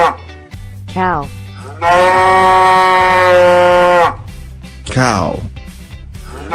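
A cow gives one long, loud, sustained moo that holds steady for about two seconds, surrounded by brief speech before and after it.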